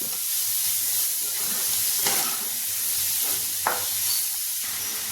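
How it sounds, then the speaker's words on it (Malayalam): Onions sizzle in a pan for a Kerala tamarind curry, a continuous soft frying hiss broken by a few brief sharper spits and crackles, heard alone. "ഉള്ളിയൊക്കെ നല്ലതുപോലെ ഒന്ന് മൂത്ത് വന്നിട്ടുണ്ട്"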